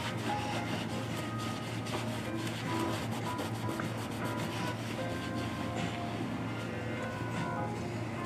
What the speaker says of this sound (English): I'm just gonna try to get off any excess products off of your shoes so it doesn't rub off on your clothes